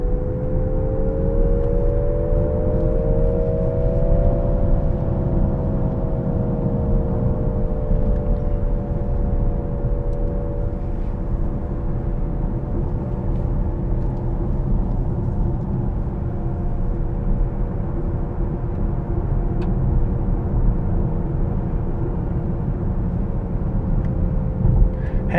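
Synthetic digital engine sound piped into the cabin of a Nissan Ariya electric car on a test drive, a steady layered hum that swells slightly early on and holds near and even throughout.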